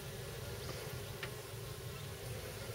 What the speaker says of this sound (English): that's a bee.